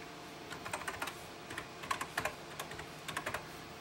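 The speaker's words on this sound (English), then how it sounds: "I'm going to press the function keys just to see before we end the video." Keys pressed on a Commodore 64 keyboard, a series of light, quick clicks in small irregular bursts, close and moderately quiet with no talking.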